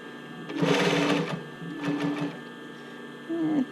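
Short bursts of a sewing machine stitching a swim top band to a bra cup come in three separate runs with brief pauses between them, close and clear in a quiet room.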